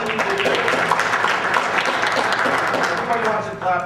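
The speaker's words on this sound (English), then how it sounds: "Everybody wants to clap for that side of it." Sustained applause from a crowd during a political speech, dense steady clapping filling nearly four seconds before easing slightly at the end.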